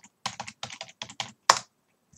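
A computer keyboard clacks through a short burst of about a dozen quick, crisp keystrokes while a password is typed, ending with a sharper, louder press, close and clear in a quiet room.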